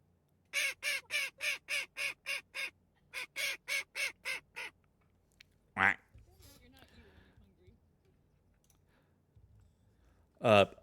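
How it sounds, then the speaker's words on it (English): Munchkin, an angry duck, lets out a rapid run of about ten harsh, evenly spaced quacks, pauses briefly, then gives five more before falling quiet apart from a couple of brief voice sounds. "Munchkin the duck is angry until she gets..."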